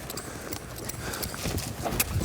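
A ridden horse walks forward in an arena at an equine riding demonstration, its hooves clip-clopping in a quick irregular patter, fairly close, with faint background noise and no clear talk.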